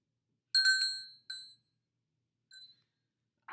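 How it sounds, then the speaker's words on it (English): A small bell gives a bright ding, then a second shorter ring, with a fainter third tap a moment later, each ring decaying cleanly in an otherwise quiet room. "Might as well ring a bell if I'm going to go with that again."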